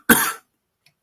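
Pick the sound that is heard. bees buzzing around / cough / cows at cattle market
cough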